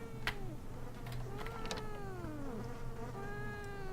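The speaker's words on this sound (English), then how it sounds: "it's a cat crying, but I thought it was a baby crying at first" A cat crying in the horror game Mysterious Mansion, a series of drawn-out, wavering meows rising and falling over a low droning ambience, faint and alone without speech.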